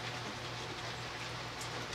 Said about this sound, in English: Rain on the tin roof.